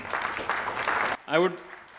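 Audience applause at the inauguration of a hospital cardio-thoracic and vascular surgery unit, a dense burst of clapping for a doctor lasting about a second before it cuts off and a single voice follows.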